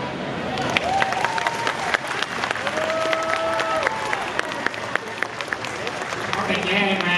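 Applause from a comedy show audience in Mérida, Yucatán for a participant, steady dense clapping with scattered whistles and cheers throughout, voices mixed in.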